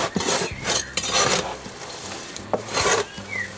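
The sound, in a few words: mixing cocoa peat and perlite potting mix by hand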